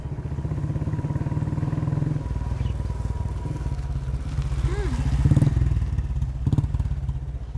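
Motorbike engine putting steadily as an old bike arrives, loud and close with a low rhythmic thrum, a brief clatter and thump midway.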